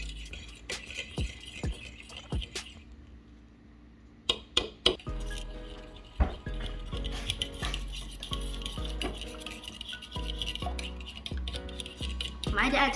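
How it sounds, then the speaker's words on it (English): Eggs seasoned with black pepper are whisked in a bowl, with quick clinking utensil strokes against the dish coming in bursts, some sharp taps standing out, while a person talks over much of it. "we're going to whisk the eggs until it turns a bright yellow like this"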